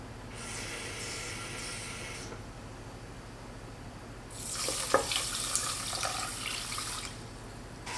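Tap water running into a measuring cup, a soft hiss for about two seconds, a pause, then a louder, splashier stream as the cup fills, close and without talk.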